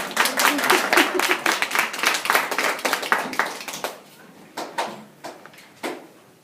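Audience at a Toastmasters meeting clapping, dense overlapping claps that thin out partway through into a few scattered, isolated claps near the end.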